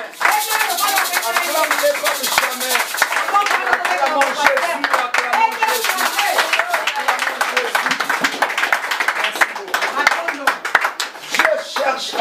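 A church congregation applauding, brisk continuous clapping from many hands that fills the space, with voices mixed in throughout.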